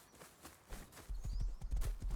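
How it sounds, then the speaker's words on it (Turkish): Horse hooves clip-clop in the Rust survival video game, a fast run of low thuds growing louder and closer through the second half, with faint game ambience underneath. "Atı çok hızlı bunun."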